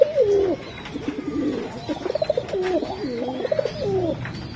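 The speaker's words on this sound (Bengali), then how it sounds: "ভাইয়া এটা কি কবুতর?" A male Gorra pigeon coos in a series of low, rolling, throaty calls, close and fairly clear, with faint background noise.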